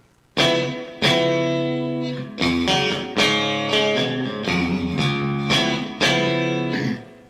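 An electric guitar through a reverb pedal strums a series of ringing chords, each struck sharply and left to sustain and fade with a spacious, reverberant tail.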